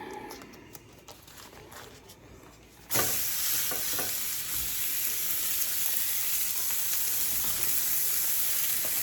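Burger patties sizzle loudly in two cast iron pans in a kitchen, a steady frying hiss that jumps up sharply a few seconds in and holds, with faint clinks and stirring scrapes.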